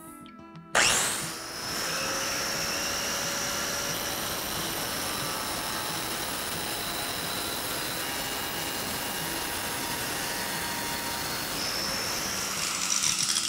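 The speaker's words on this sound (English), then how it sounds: "I'm going to be just using the grinder and passing it along on an angle" A 4-inch angle grinder spins up abruptly, then cuts steadily around a circle during a bathroom renovation, giving a loud, continuous high-pitched whine at close range for the rest of the clip, with no talk.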